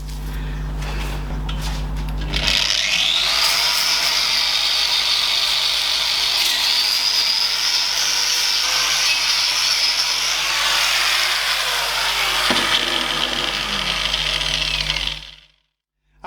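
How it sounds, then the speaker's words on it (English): An angle grinder whines loudly and steadily against a Foden S80 truck hub reduction part, starting after a low background hum and grinding continuously for about twelve seconds before spinning down abruptly. "So we'll get set up to give it some angle grinder."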